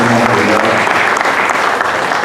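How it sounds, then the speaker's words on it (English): A crowd applauds at a Pakistani community celebration of the 77th Independence Day, with dense, steady clapping filling the whole stretch at close range and no break. "please rise and have a big clap for our"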